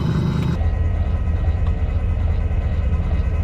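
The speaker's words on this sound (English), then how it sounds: "That's the sound of the 5 pounds of air in my bag going out." Air hisses out of an Air Lift suspension airbag on a Ram 1500 pickup truck as about five pounds of pressure are released, a steady low rushing rumble that carries on without pause, close by and with no talking.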